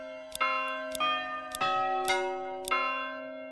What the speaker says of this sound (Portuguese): E dá pra trocar o sino, ó.